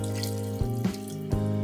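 Water from a tap pours into a pot of Puerto Rican chicken stew with a steady rushing splash, broken by a few brief gurgles and clunks, close and alone.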